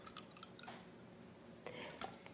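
Water from an onion-soaking bowl poured into another container during a water demonstration, giving a soft splashing trickle with a couple of stronger bursts.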